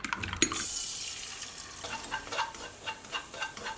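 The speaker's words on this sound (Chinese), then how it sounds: "搅散之后放入锅中，快速炒成小块" Three beaten eggs stir-frying in a hot pan, broken quickly into small pieces: a bright sizzle with a sharp spatula scrape at the start, then scattered stirring clatters over a steady frying hiss, no voices.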